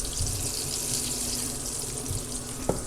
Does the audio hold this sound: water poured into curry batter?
yes